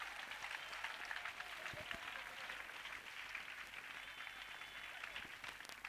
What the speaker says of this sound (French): A clap offering to Jesus Christ.